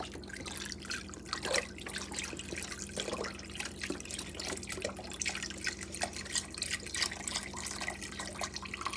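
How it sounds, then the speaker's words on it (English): Chicken stock poured from a container into a crock pot, a steady trickling, dripping liquid sound running close and continuous for several seconds, with a faint low hum underneath. "Now I'm going to take my container of chicken stock here and just pour that"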